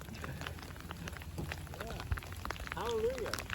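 Hail falls on a rainy morning during a bikepacking trip in the Cowichan Valley, BC, a faint, steady patter with scattered ticks. A voice talks briefly near the end.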